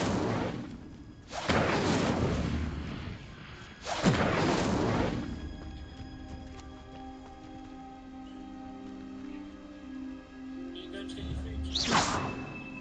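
The Incendio fire spell is cast in the video game Hogwarts Legacy, with loud roaring bursts and whooshes in three close blasts, then a quieter tonal game backdrop before a final burst.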